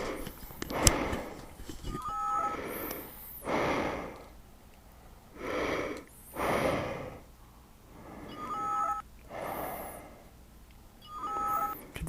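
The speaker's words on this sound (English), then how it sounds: "There's no sound besides your own breathing." Slow, heavy breaths from a character on a silent moon in the game Shores of Hazeron, each inhale and exhale swelling at steady intervals against near silence, with faint electronic beeps between them.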